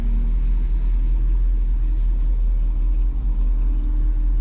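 A 1990 Ford F600 truck engine runs at a steady low idle, a constant deep rumble with a faint mechanical hum, close and unbroken with no talking.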